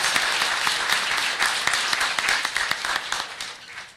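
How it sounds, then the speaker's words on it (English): Round of applause from the audience at a school board meeting for student performers: steady, moderately loud clapping from a room of people, thinning into scattered claps toward the end. "So let's give them a round of applause."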